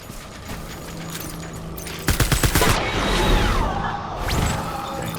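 Gunfire in the video game Death Stranding, a rapid burst of sharp shots followed by whooshing and crashing impacts, loud and close over a steady background rumble.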